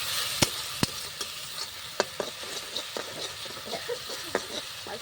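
Meat cooking in oil in a pan, a constant low sizzle broken by sharp scraping clicks of a spatula stirring at irregular intervals, close by and without voices.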